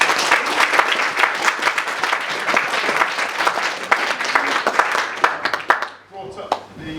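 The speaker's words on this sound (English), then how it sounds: "So big round of applause." A school audience breaks into a big round of applause for staff and technicians, dense steady clapping from a crowd that stays loud for several seconds, then thins and cuts off near the end as a few voices come through.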